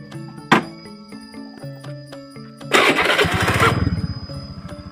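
A motorcycle engine starts up on a forest trail, a sharp kick at first, then a loud burst of revving that settles into a steady, close chugging idle with no talk over it.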